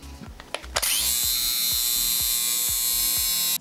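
An electric lint remover for sweaters clicks on and runs with a steady high-pitched motor whine, its blades giving a faint rhythmic ticking, close and loud with no talk.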